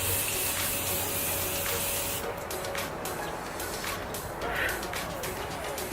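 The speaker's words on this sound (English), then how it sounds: "we're gonna set that all together with my Morphe setting spray" Morphe setting spray misted onto a face in a continuous, close, loud hissing burst lasting several seconds, with a brief breathy break partway through and no talking.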